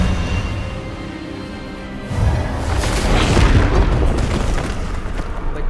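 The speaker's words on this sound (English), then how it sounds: "Expelliarmus!" In the Hogwarts Legacy video game, an Expelliarmus spell lands with a heavy boom and a roaring burst about two seconds in. The rumble follows a quieter stretch and carries on loudly to the end.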